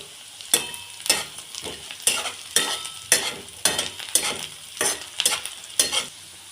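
Crushed garlic fries in a pan over medium flame with a soft sizzle, broken by repeated rhythmic scraping strokes as it is stirred, close and fairly quiet.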